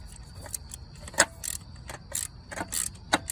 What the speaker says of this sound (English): So if I do this and I hear the ratchet